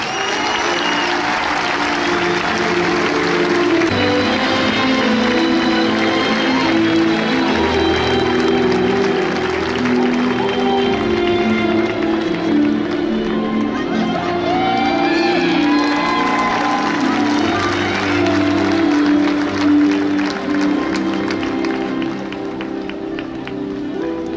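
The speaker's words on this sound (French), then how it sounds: "Un tonnerre d'applaudissements s'il vous plaît pour le rasoteur Joachim Cadena." A large crowd applauds loudly and without pause at the Cocarde d'Or, a Camargue bull-running contest in the Arles arena, with scattered whoops and shouts rising over the dense clapping.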